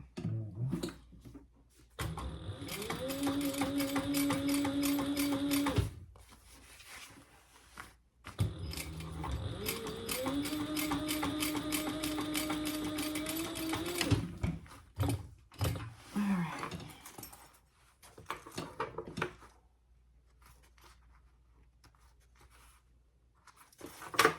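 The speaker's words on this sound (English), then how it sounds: "we're gonna do a top stitch right there" A sewing machine top-stitches a zipper gusset with a rapid, buzzing motor drone in two long runs, separated by pauses and fabric handling, ending in quieter clicks and rustles.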